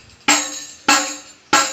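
Three sharp fingertip taps on the wooden rim of a hadroh frame drum, each a crisp, bright knock with a short decaying ring, spaced evenly about six-tenths of a second apart and heard close with no talking.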